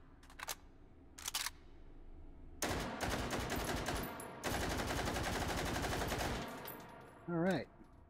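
A Czech gun fires full auto in the VR game Hot Dogs, Horseshoes & Hand Grenades, giving two long rapid bursts of dense, loud gunfire after a few isolated clicks, with a brief rising tone at the end.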